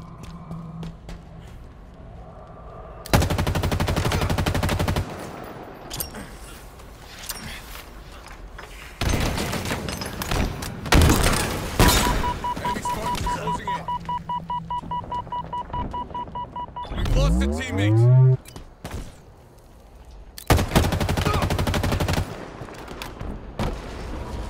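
Gunfire in Halo Infinite during a one-flag match: loud, close bursts of rapid automatic fire, broken by short pauses, a sweeping whoosh and a string of evenly spaced shots.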